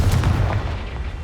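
A Confringo fire blast spell goes off in Hogwarts Legacy as one loud, booming burst that fills the whole short moment, close and heavy, with no talking.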